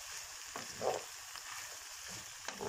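Chili flakes being stirred into onions and peppers sautéing in a pan for a green bean dish: a steady, close sizzle of frying runs throughout, with a few brief scraping stir strokes rising above it.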